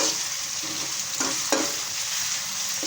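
Ginger garlic paste hits browned onions in a hot pan, a steady bright sizzle with a couple of stirring scrapes, close and fairly loud.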